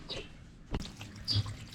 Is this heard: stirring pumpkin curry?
no